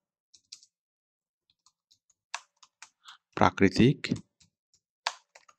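Sparse, light keystroke clicks on a computer keyboard while a post is written, then a voice speaks briefly before a few more scattered taps.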